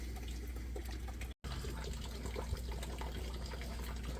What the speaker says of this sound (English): while our coolant is draining out